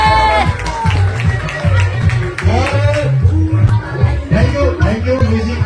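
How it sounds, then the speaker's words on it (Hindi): An audience at a family celebration applauding and cheering loudly, clapping blended with crowd noise and strong music or voices running underneath. "एक जोरदार तालियां"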